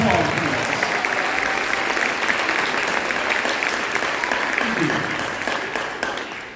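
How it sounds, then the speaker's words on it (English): Sustained audience applause fills a hall at a high school spring instrumental concert, dense and loud throughout before tapering slightly at the end. "Give them a round of applause, please."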